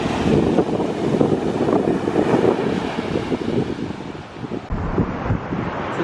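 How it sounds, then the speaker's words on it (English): Big surf breaking at an ocean beach at Sebastian Inlet, a constant roar of waves mixed with heavy wind buffeting the microphone, loud and unbroken. "This water is so pretty, and the waves are pretty big here."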